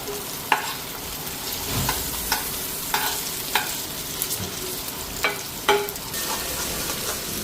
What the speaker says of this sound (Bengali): আর এইদিকে মশলাটা ফ্রাই করে নিতেছি বড় মাছের জন্য